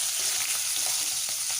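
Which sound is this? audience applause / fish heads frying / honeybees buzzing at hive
fish heads frying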